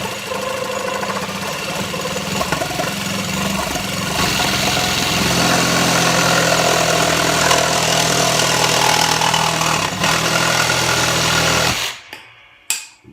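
A Kimo 20V cordless one-handed reciprocating saw cuts through plastic with a loud, continuous buzzing rasp that builds in speed and holds steady before the motor abruptly stops near the end.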